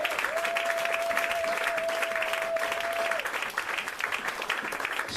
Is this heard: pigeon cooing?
no